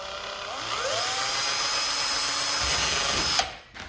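A power drill bores through the plastic top of a Carbon Cub S2 model airplane landing gear, a steady close whirring that rises in pitch and runs continuously before cutting off near the end.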